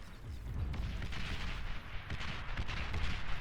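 Artillery fire rumbles in the real-time strategy game Beyond All Reason, a run of deep booming blasts and rolling explosions layered over a dense, continuous battle din.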